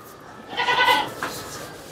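A single bleat from a heavy male goat of about 70 kg with pink skin, rising out of quiet background noise and tapering off after about half a second, with no voices over it.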